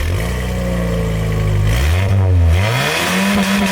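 A pickup truck engine revs hard in a short sound test, rising and falling in pitch with a throaty, slightly leaky exhaust tone, loud and close with no talking.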